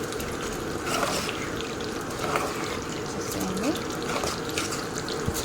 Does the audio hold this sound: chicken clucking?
no